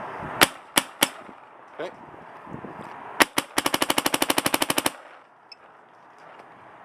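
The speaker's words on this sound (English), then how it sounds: "So let's go ahead and shoot this over the chrono now." Spring-powered Pooty clone blaster, modded with a GT/GTi bolt, fired over a chronograph: a few single sharp shots, then a rapid burst of about fifteen snappy pops, loud and close, with a short spoken word.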